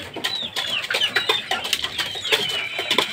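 Gamecocks cluck at a small backyard chicken farm, a busy run of short, repeated clucks and squawks from several birds close by. Light rustling and a wing flap mix in.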